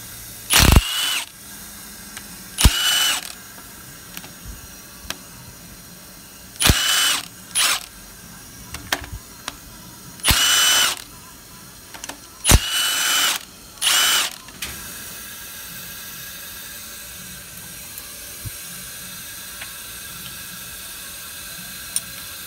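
Power tool and ratchet work pulling the intake manifold off a Ford 5.0L engine: several short, loud bursts of drilling or ratcheting separated by quiet pauses, with no one talking.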